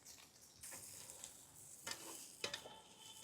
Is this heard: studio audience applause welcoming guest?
no